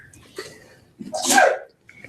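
A single loud, close sneeze bursts out after a brief quiet breath, with a faint voice before it and a short tail of sound afterward.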